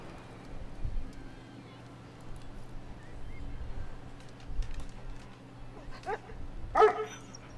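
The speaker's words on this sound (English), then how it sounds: "Dog's happy." A pet dog whimpers and gives short yips and soft barks close by indoors, mixed with background game sound and occasional talk, with a louder excited burst near the end.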